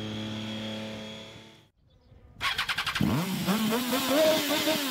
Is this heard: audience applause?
no